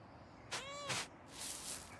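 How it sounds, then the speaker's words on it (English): A cat in the medieval-set game Pentiment gives one short, close meow with a bending tone, followed by a soft breathy noise, over a faint background hiss. "It's such an awesome medieval cat."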